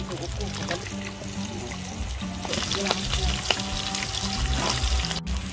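Food sizzles and bubbles in hot oil during a second fry, a steady crackling hiss close by with occasional clinks, while people talk over it throughout.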